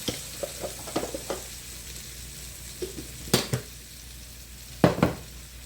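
A flour roux for gravy sizzles softly in a pan while a utensil stirs it, with scattered scraping clicks and two sharp knocks against the pan.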